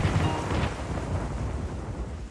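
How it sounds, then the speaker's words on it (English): Thunder roars out of dark storm clouds during rainfall, with a lightning strike nearby; a deep, loud, continuous rumble fills the whole moment with no voices over it. "Thunder roared."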